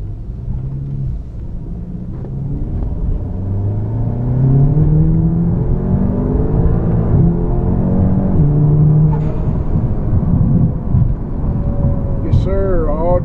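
An all-wheel-drive, turbocharged car of about 3,000 pounds and 401 horsepower, its engine droning and rising as it pulls, loud and close, with a brief higher whine near the end.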